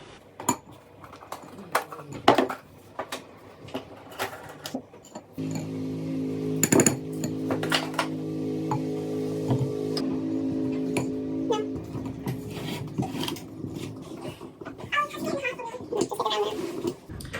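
A spoon clinks and scrapes against a bowl while baking powder, flour and salt are stirred into a spinach cake batter. The stirring is light and irregular, with someone talking over it.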